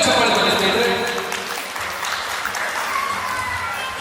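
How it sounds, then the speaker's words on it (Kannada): Audience at a magic show applauding, a dense burst of clapping that stays loud and steady throughout with voices mixed in. "ಮೊದಲನೇ ಶುದ್ಧವಾಗಿ ಚಪ್ಪಾಳೆ ಸ್ನೇಹಿತರೆ"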